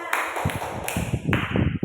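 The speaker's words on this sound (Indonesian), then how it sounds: "beri tepuk tangan untuk kalian" A small class of students claps in a classroom: a quick, scattered burst of hand claps at close range, continuing steadily for a couple of seconds with no talking.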